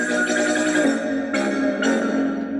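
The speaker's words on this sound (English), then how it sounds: "It gave you the ending music." Closing theme music from a TV episode, played from a cassette tape, plays steadily, bright tones over a soft low bed, with two sharp accents near the end.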